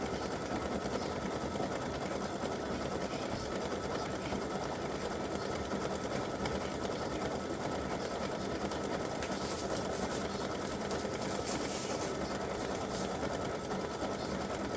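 An embroidery machine stitches a patriotic side-seam split applique design on tearaway stabilizer, humming steadily and evenly throughout with no talk.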